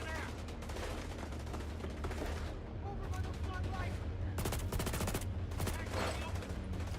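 Dense, continuous gunfire from a shooter video game shown at E3 2018, with rapid automatic bursts and booms filling the whole stretch, while people talk over the action.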